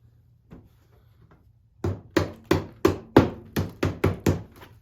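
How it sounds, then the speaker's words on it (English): A ball peen hammer taps push pins into a Toyota Yaris headlight area, sharply eight or nine times in a quick, slightly uneven rhythm, close and crisp, after a short quiet stretch with faint knocks. "Had to find the ball peen hammer to put them in."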